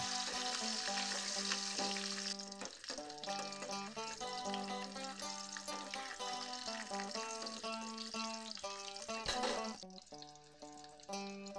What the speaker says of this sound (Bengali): ওই তেলের মধ্যে আলুগুলো দিয়ে এপিট ওপিট করে একটু ভেজে